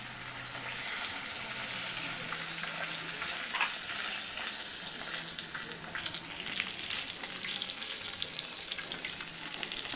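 Koi fish frying in plenty of hot oil, a continuous crackling sizzle with bright spattering pops that runs steadily for the whole stretch, close and fairly loud with no speech.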